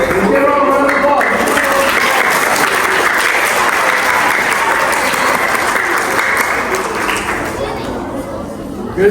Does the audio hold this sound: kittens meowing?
no